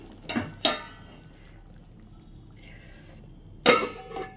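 A lid goes onto a pot of potato and pointed gourd curry, giving two quick metallic clinks and then one louder clank a few seconds later, close and alone in a quiet kitchen.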